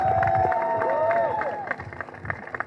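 Crowd applause and cheers at a pro tennis league final, loud and sustained at first and then thinning, with a strong whistle or whoop sweeping through early on.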